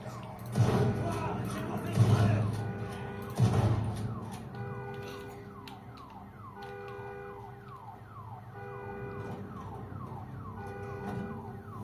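A warbling electronic alarm in the video game Days Gone cycles on in a steady repeating pattern, after a few loud bursts of speech near the start.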